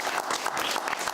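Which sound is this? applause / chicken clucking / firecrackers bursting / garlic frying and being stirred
applause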